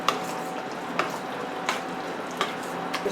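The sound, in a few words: aubergine frying and being stirred in a pan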